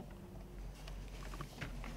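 A Chevrolet Silverado truck engine runs at a faint, steady idle, a low even rumble with no other sounds over it.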